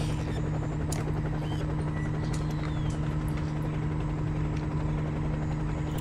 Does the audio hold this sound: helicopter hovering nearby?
yes